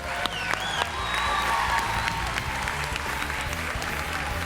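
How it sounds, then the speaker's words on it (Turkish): Loud, sustained applause from a large audience at a televised Turkish singing competition, steady clapping filling the hall with scattered cheers and faint voices underneath. "Büyük bir alkış."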